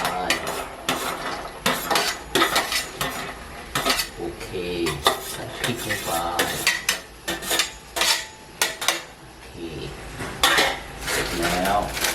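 Minced pork goes into a pot for clear tom yum instant noodles, with repeated metallic clanks and scrapes of a utensil against the pot in close, busy bursts, and no voices.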